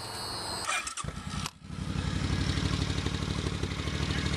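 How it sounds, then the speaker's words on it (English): A Suzuki Boulevard C-50 motorcycle engine cranks over with a brief stumble, then catches and settles into a loud, steady, throbbing idle close by. "So I'll start this up and let you guys check out the speaker here. It gets pretty loud."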